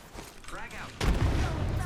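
A frag grenade goes off in a video game as a heavy, rumbling boom that lingers. Voices talk over the game sounds before and during the blast.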